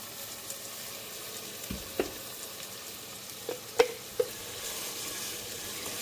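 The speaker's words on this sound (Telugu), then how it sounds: "మసాలా ఆయిల్లో మంచిగా ఫ్రై అవ్వాలి" Green masala fries in oil with a soft, even sizzle, and a few faint taps of a spoon against the pan come through on top.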